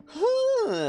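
A single drawn-out vocal groan from a worker kicking someone in the game Evil Genius, rising then sliding down in pitch, loud and close, lasting under a second with no other sounds around it.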